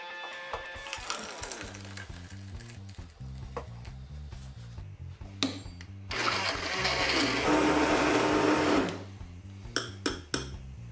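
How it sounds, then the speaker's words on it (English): Chicken and mushroom soup whizzed in a jug blender, a buzzing motor coming in short bursts with a longer sustained run in the middle, heard close up with music underneath. "put it into a jug and give it a good old whiz"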